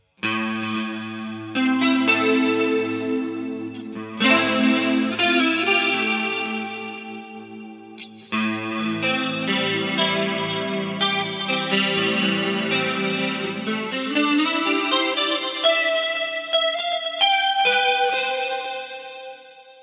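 Electric guitar playing a clean tone through a Mooer GE200 multi-effects processor, with shimmering, chorus-like modulation. Sustained chords and single notes ring out loudly and continuously, with no talking.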